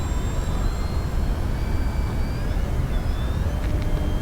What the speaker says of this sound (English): Let's do a low pass here. Tundra in all its glory.